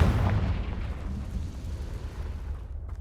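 A fiery Confringo spell explosion in the Hogwarts Legacy video game: a loud, deep boom that bursts at once and then rumbles and fades over a few seconds, with no talking.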